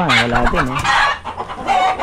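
A rooster crows close by, followed by hens clucking and squawking in a busy, loud flurry.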